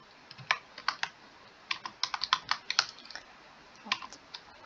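Keys clatter on a computer keyboard as a chart title is typed into an Excel box plot, coming in quick uneven bursts of close, crisp clicks with short pauses between.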